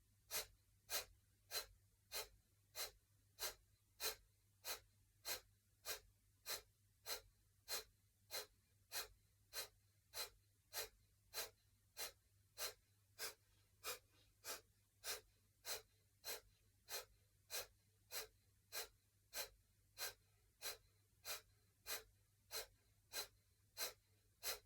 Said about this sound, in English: So take your position and let's start breath of fire.